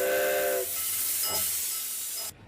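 Old steam train at the Billy Jones Wildcat Railroad in Los Gatos gives a loud, steady steam hiss with a brief high whistle tone at the start, continuing alone until it cuts off abruptly near the end.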